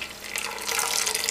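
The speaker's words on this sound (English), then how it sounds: "Let some of the water drain." Water drains and trickles from freshly dyed yarn, lifted with a slotted spoon, back into a pot, a short soft pattering stream that grows slightly louder.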